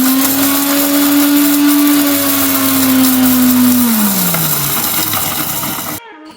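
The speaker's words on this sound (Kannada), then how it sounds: "ಮಿಕ್ಸಿ ಜಾರಿಗೆ ಹಾಕ್ಕೊಂಡಂತಹ ಒಣ ಮೆಣಸು, ಜೀರಿಗೆ, ಕೊತ್ತಂಬರಿನ ಒಂದು ಸ್ವಲ್ಪ ಗ್ರೈಂಡ್ ಮಾಡ್ಕೊಳ್ಳೋಣ" A mixer grinder grinding dry chillies, cumin and coriander, a loud steady motor whine that holds its pitch and then winds down toward the end before cutting off, close up, with no talking.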